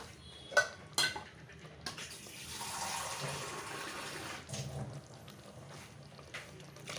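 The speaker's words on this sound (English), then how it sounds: "now we'll pour in about 1 or 2 cups of water because we want the gravy" Water pours into a drumstick and potato curry to make gravy, a steady liquid rush following a couple of sharp clinks of pots and utensils, with no talking.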